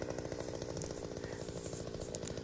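A Takyo TK3P wheeled earth auger with an 80 cm bit drills into red soil full of large tree roots, its small engine droning steadily and roughly throughout at a moderate distance, with no voices.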